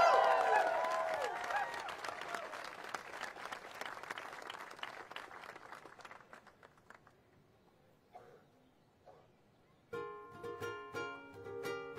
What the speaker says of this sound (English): When you make applause for the keiki, you gotta do it really big.